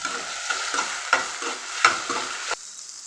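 Green chillies and onions sizzle in a hot pan for a mushroom gravy, with a spoon scraping through them in repeated rhythmic strokes; close and fairly quiet, ending abruptly.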